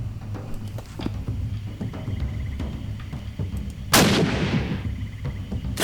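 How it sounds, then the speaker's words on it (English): Gunfire bursts out in the Sherlock Holmes: The Awakened video game, a sudden loud blast whose echo fades slowly over an ambient game background. "We could shoot them down."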